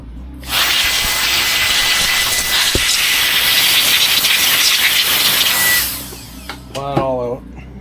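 A steady loud hiss of compressed air blowing debris out of a drilled 3D-printed battery tray for a Traxxas Jato 4x4 RC car, lasting about five seconds, followed by brief rattling and a short voice.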